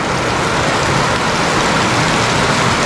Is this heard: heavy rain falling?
yes